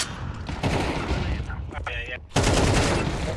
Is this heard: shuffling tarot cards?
no